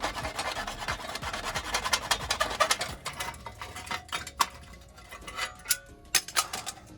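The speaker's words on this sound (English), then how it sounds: "go ahead and get your handsaw and you can finish that part off" A handsaw cuts through the rusty brake dust shield plate on a 1996–2002 third-generation Toyota 4Runner, giving steady rasping strokes that thin out into scattered ticks and scrapes near the end.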